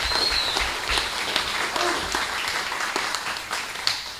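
Applause fills a city council meeting room in Cibolo, a steady patter of clapping hands from a small crowd that keeps going throughout at moderate loudness.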